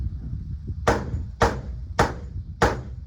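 Four heavy, evenly spaced blows from a big hammer strike metal on a boat about every half second, each a sharp close impact over a low background rumble.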